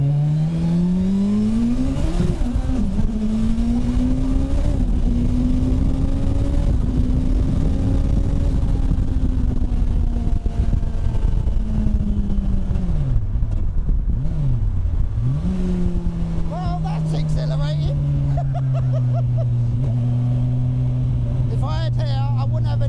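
A turbocharged Suzuki Hayabusa motorcycle accelerates hard while spinning its rear wheel, engine pitch climbing and dropping through several sweeps over a long, loud stretch, with brief dips as revs fall and a person talking over it.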